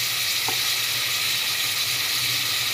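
Tomatoes fry in a pan for chicken biryani, giving a loud, continuous close sizzle with a faint stirring scrape near the start.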